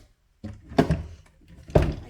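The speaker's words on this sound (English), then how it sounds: "I can't close the door." A cabinet door packed with stuck books is pushed shut and bumps against them twice, giving two dull, close wooden thumps with a short scrape in between.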